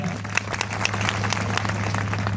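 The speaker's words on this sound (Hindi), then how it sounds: "मैं चाहूंगा आप सबसे कि एक बार उनके लिए जोरदार ताली भी हो जाए" An audience at a railway goods-shed workers' union meeting applauds loudly, dense continuous clapping from a crowd throughout, with a low steady hum underneath.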